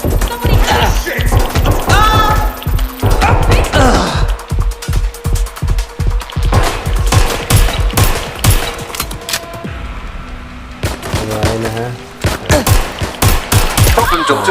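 Gunfire bursts from the video game Watch Dogs Legion, rapid repeated shots in clusters mixed with game effects, voices calling out over the action.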